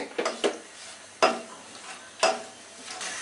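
Whole cardamom pods, cloves and cinnamon pieces stirred in hot oil in a saucepan, with a soft steady sizzle broken by three or four distinct scraping clinks of the spoon against the pan.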